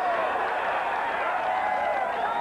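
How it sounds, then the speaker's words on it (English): A dense wash of golf crowd applause at the 18th hole of the 1982 US Open, steady and fairly loud throughout, with many hands clapping blending into a continuous roar. "Crowd here at 18 has just seen that Nicklaus has birdied the last hole"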